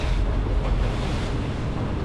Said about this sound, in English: A little bit swelly out here, a little bit windy